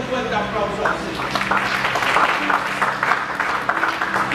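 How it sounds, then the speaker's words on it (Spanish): A church congregation applauds during a sermon, a steady wash of clapping that runs the whole time beneath a speaking voice. "Ese aplauso es para Dios"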